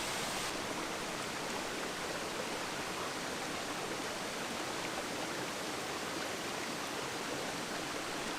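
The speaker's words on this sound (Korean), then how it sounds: "높이 50m 절벽에서 힘찬 폭포수가 쏟아져 내립니다." Miin Falls in Tongni Gorge pours from a 50 m cliff, a dense, continuous rushing roar of falling water that stays steady and loud throughout, with no voices.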